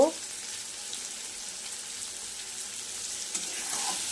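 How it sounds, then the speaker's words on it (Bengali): Chopped onion frying with already-fried potato and pointed gourd in a pan, a steady close hiss of sizzling oil with faint stirring scrapes throughout, no voice over it. "পেঁয়াজ কুচি দিয়ে ভালো করে নাড়তে থাকবো, আবার একটু ভেজে নেব।"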